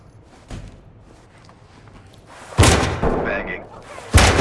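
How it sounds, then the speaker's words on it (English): A flashbang grenade detonates in the tactical shooter Ready or Not, a loud sharp blast followed by a second heavy bang, with radio chatter and faint footsteps around it. "Red team, open in flashbang."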